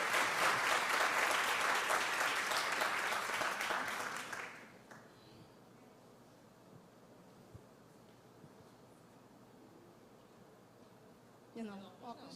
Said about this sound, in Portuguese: Vamos aplaudir as meninas?